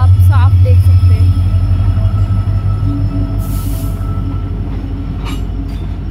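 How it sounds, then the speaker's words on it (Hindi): An Indian Railways train rolls along the track, a loud, close rumbling drone with rhythmic wheel clatter and occasional squeals, while someone talks over it. "ट्रेन अपनी गति में आगे की ओर बढ़ रही है।"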